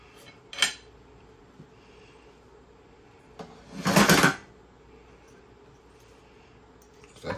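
Metal pot handle clanking against a hot rotisserie spit of beef short ribs: a sharp clink, then a dense burst of rattling metal scraping lasting about a second, and another brief knock at the end, with no talk.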